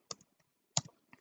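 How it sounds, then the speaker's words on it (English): A few sparse computer keyboard keystrokes while typing an email ID, close and quiet clicks separated by short pauses. "Now I'm again trying to sign in and I'm typing the email ID."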